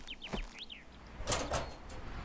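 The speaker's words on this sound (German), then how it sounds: "Tür geht schon wieder zu." A door slides shut in the animal shelter management game Animal Shelter, a short soft thud and rumble with faint chirping tones earlier, quiet and without speech.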